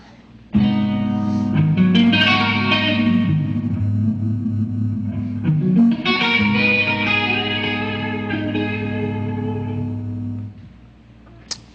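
An electric guitar picks out a minor-chord arpeggio in two ringing phrases, each note sustaining into the next before the sound fades out.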